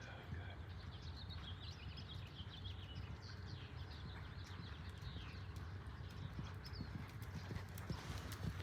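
Horse cantering in a riding lesson, hooves giving a faint, steady rhythmic clip-clop at a distance, with birds calling in the background.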